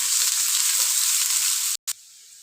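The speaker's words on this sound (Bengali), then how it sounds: "পেঁয়াজ কুচিটা যতক্ষণ না সোনালি রং হচ্ছে ফ্রাই করে নিতে হবে।" Chopped onions frying with dry spices in a pan give a loud, steady hiss and sizzle close by, which cuts out abruptly near the end and returns more faintly, with no one speaking.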